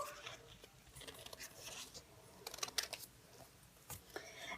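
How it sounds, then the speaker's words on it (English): Scissors snip through Jamberry nail wraps in a few quiet, close cuts with soft rustling of the sheets between them. "So then I'm going to cut these wraps out too."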